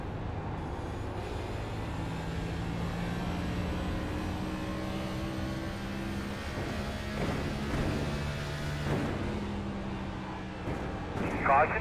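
On-board sound from a race car lapping the Iowa Corn 175 racetrack, a steady loud engine drone running throughout with shifting pitch, rising briefly near the end.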